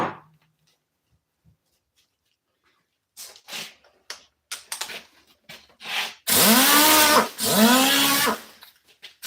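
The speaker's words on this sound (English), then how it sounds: "that's called a Bondo Buster" A Bondo Buster body-filler cutting tool scrapes and rasps in short bursts, faint strokes at first, then two longer, louder grinding passes near the end.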